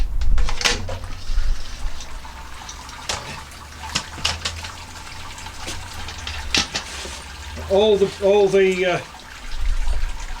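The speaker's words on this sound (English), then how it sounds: "the water now is draining through the grains" Wort drains through a lifted grain basket during all-grain beer brewing, giving soft trickles and drips near by, while someone speaks briefly in the background.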